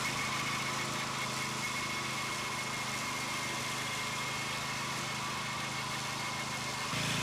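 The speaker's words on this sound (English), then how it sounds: "Because the BCS tractor is all gear driven, this is a great mower for slopes." A BCS gear-driven walk-behind tractor fitted with a 26-inch mower runs steadily on a slope, its small engine giving a continuous, loud mechanical drone with a faint high whine and no pauses.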